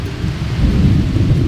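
Rain with rolling thunder on Majuli, the river island in the Brahmaputra: a steady, loud wash of rainfall over a deep, continuous rumble, with no voices.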